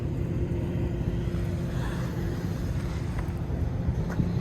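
A 1991 Honda Civic EF sedan's exhaust runs with a newly fitted muffler that is still louder than before, heard as a steady, low, continuous rumble up close, roughened by wind buffeting on the microphone.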